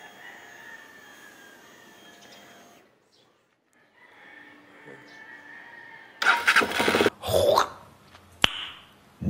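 A Rusi Flash 150i scooter's engine is cranked and fires up after throttle cable replacement and throttle body cleaning, a short burst of starter churn then a catch into running, with a dog and a rooster audible nearby beforehand.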